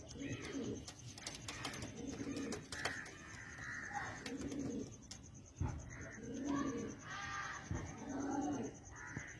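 Pigeons coo in repeated soft throaty phrases close by, several birds overlapping in a loose rhythm among light rustling and wing flutters.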